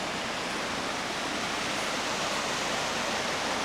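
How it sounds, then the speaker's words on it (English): Veitch Creek runs in a steady, full rush of water near a waterfall in the Sooke hills. The wash is continuous and fairly close, with no voices. "beautiful running water, absolutely pristine here out in Sooke"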